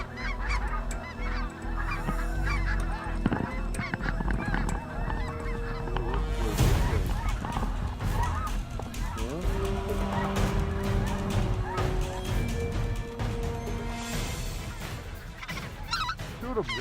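A big flock of snow geese in fog over a hunt honks constantly and loudly, with many overlapping calls close by. A sharp crash-like burst cuts through partway, and then the dense honking carries on.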